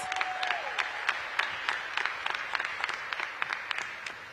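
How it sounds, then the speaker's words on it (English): An audience at a DC public event, held for charter school leaders and educators, breaks into steady applause: dense, continuous clapping from a crowd, moderately close and sustained throughout. "Give them a big round of applause"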